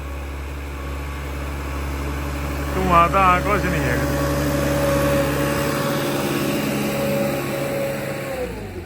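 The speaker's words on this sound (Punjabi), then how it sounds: "ਆਵਾਜ਼ ਬਹੁਤ ਸੋਹਣੀ ਹੋ ਗਈ ਟਰੈਕਟਰ ਦੀ" A tractor pulling a Lemken 3MB plough through a potato field idles in a steady, low drone, with someone speaking briefly near the start over the continuous engine hum.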